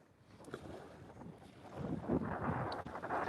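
Wind gusts buffet outdoors by the water during a catfish fishing trip, starting soft and swelling into a louder, rumbling rush in the second half.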